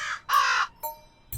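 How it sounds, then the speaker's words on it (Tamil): A crow caws three times, a long harsh caw between a shorter one before it and a clipped one after, loud and close with silent gaps and no talking. "என்னப்பா காக்கா நம்மள கூடுது?"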